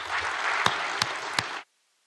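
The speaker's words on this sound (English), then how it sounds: "I would like you to applaud them and thank you for their help" A conference audience applauds the volunteer helpers with a dense burst of clapping that a few sharp thumps punctuate, and it stops abruptly after about a second and a half, leaving silence.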